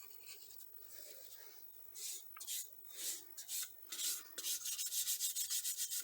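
The finest sandpaper rubs across a wooden plate in soft, rhythmic strokes, starting slow and irregular, then quickening into a steady back-and-forth rasp.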